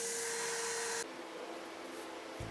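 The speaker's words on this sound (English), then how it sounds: "I ran each wall bracket over a sander, rounding the corners just a bit" A sander rounds the corners of wooden wall brackets for a shop lumber rack, starting as a loud, steady, high whine for about a second, then dropping to a quieter hum with faint scraping of wood for the rest.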